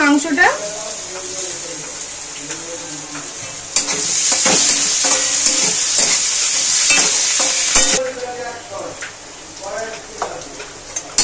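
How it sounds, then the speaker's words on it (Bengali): Chopped chicken frying in oil for a chicken tarka, with a steady loud sizzle and repeated scraping stirs of a spatula in the pan, louder in the middle stretch; a voice talks briefly over it. "মাংসটা দিয়ে নাড়াচাড়া ভেজে নিয়েছি বেশ কিছুক্ষণ ধরে"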